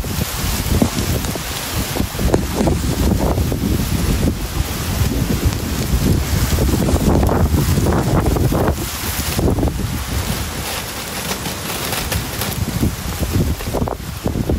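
Strong wind roars and buffets the microphone without a break, a heavy rumbling gust sound throughout with no talking.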